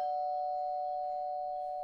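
A doorbell rings inside a house as a steady electronic tone that holds for about two seconds at moderate level, with no one speaking.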